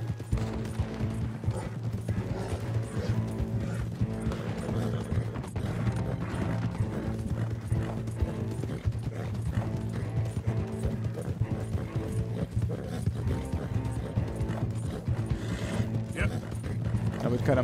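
Horse hoofbeats in the video game Red Dead Redemption 2, a quick rhythmic galloping clatter running steadily under game sound and music, moderately faint throughout.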